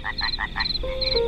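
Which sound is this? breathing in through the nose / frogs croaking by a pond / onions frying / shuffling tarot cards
frogs croaking by a pond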